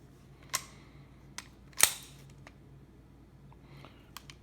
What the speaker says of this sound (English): let's take the weapon apart.